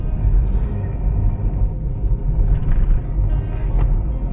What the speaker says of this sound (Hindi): काफी ट्रैफिक है, ऐसा नहीं कह सकते कि ट्रैफिक नहीं है